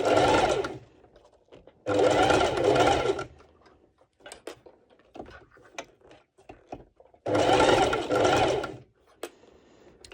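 A sewing machine stitches the underwire channel of a ruched bikini top in three quick bursts of fast, buzzing stitching, separated by quiet pauses filled with small clicks and fabric handling.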